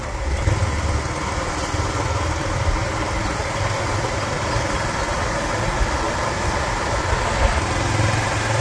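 Motorcycle ridden along a village road: a steady, unbroken engine drone mixed with rushing wind noise, loud and continuous throughout, with no talking.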